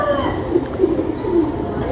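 A Ferozpuri pigeon gives several low, soft coos in short, repeated bursts over a background murmur of people nearby.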